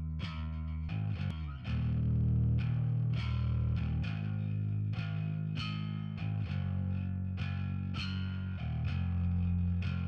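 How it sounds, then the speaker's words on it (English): A bass guitar plays through a solid-state amp into a Marshall 8x10 cabinet, miked with a 421 and no EQ. Distinct plucked notes and short riffs ring out with a gritty, slightly distorted tone, clear and upfront for about ten seconds. "And with a 421 on the bass cab with no EQ, it sounds like this."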